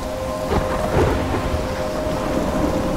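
Steady heavy rain pours throughout a video game thunderstorm, with low rumbling thunder swelling briefly near the middle, dense and continuous with no talk.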